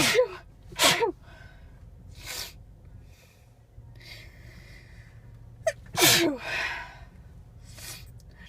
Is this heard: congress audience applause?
no